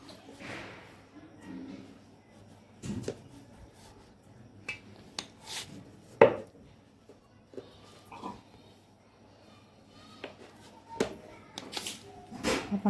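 A knife cutting rolled shankarpali dough into squares, with scattered sharp taps and thuds against the board, some quick and close, over quiet background with occasional faint voice.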